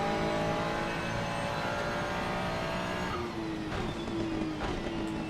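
Ferrari 296 GT3 race car in Assetto Corsa Competizione at Watkins Glen, engine note steady and loud, then rising in pitch as it accelerates hard through the gears, with a brief lift near the end.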